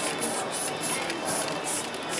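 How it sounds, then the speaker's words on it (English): A steady, continuous hiss of aerosol spray, loud and close, running unbroken for the whole stretch. "Over here, I spray, and then I get sideways over here."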